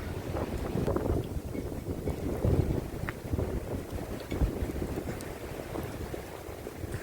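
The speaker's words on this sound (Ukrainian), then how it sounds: "Вітер страшний." Steady gusting wind from a storm in Odesa roars across the microphone, buffeting it in bursts with a low rumbling rush throughout and no voices.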